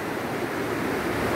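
Water rushes through a swollen, flooded river beside a highway, forming a steady, loud broadband roar that swells slightly toward the end, with no voices.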